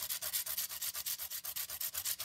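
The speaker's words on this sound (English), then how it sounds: "I'm grating the cheese." Cheese grated against a grater in steady back-and-forth strokes, a close, rhythmic rasping scrape repeating about every tenth of a second with no voices.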